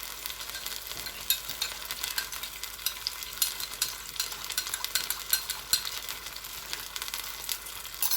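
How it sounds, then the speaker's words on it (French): Water goes into a hot pan holding palak chicken sauce, giving a dense, steady sizzle with crackling pops and light stirring scrapes close by, and no voices. "Donc, je vais mettre un petit peu d'eau."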